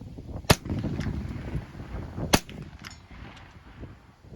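A Rock Island Armory TM22 rifle fires three rounds outdoors: two sharp, loud cracks spaced about two seconds apart, then a fainter third shot, with low background rumble between.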